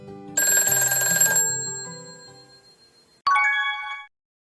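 A telephone rings while a call connects: a bright multi-tone ringtone plays for about a second and fades, then a second shorter electronic chime follows before silence.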